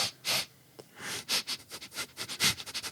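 A voice imitates a dog named Velkin sniffing at an offered hand: a run of quick, breathy nasal sniffs in uneven bursts, close and fairly loud, with no other talk.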